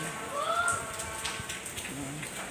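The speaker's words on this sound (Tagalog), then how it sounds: "Ang aga po yata ng ulan." Early rain falls outdoors as a steady, even hiss of drops, with faint bird chirps mixed in and no clear talk.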